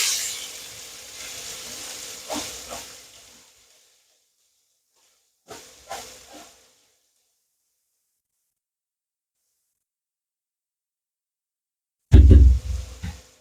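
Bottle gourd peels drop into a pan of hot oil left from frying onion and garlic, a hissing sizzle that fades, then short bursts of crackle and a loud thump near the end.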